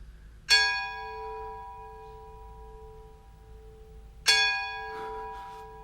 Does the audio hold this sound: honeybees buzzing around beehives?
no